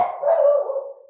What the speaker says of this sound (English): Sorry about our dog.